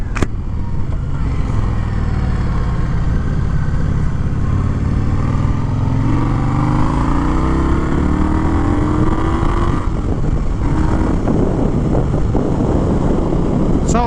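A 2021 Indian Scout Bobber motorcycle exhaust rumbles loud and close, its deep, throbbing note rising steadily as the bike pulls under acceleration, then settling and building again.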